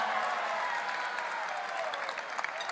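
A convention crowd at a party political event breaks into steady applause, a dense, continuous wash of clapping with faint voices mixed in, sustained throughout.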